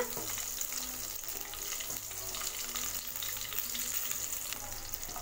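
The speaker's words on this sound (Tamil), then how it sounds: "பச்சை மிளகாய் எண்ணெயோட கொஞ்சம் வதக்கி விடுங்க" Green chillies fry in oil with a constant, fairly soft crackling sizzle and occasional light stirring scrapes, with no voices.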